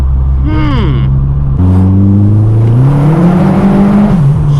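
A boosted Vauxhall Corsa B with a C20LET turbo engine accelerates hard through a tunnel, its loud, booming engine note rising steadily through the gears and echoing close up.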